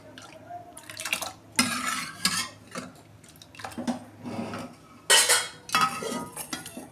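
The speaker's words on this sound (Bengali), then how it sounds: "দেখুন বন্ধুরা, প্রেসারটা খুলছি। দেখুন ডালটা সিদ্ধ হয়ে গেছে।" A pressure cooker of boiled lentils being opened in a home kitchen, with a sequence of close metallic clanks and scrapes of the lid and utensils against the pot, separated by short quiet gaps.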